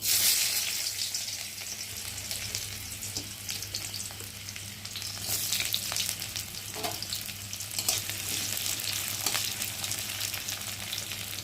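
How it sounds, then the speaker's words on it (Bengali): Chopped onion frying in hot oil, a steady broadband sizzle running throughout with occasional soft stirring scrapes, close and moderately loud, no talking. "আর এখন আমি তেলের মধ্যে দিয়ে দেবো পেঁয়াজ কুচি।"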